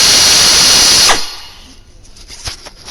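An air ratchet spins bolts into a water pump on a 1992 GMC one-ton truck with a loud, hissing pneumatic whir that cuts off after about a second, followed by quiet metallic clinks.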